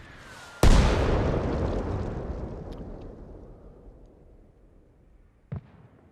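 A single heavy mortar round detonates on target in Arma Reforger, a loud boom with a long rumbling decay, followed several seconds later by a fainter second impact.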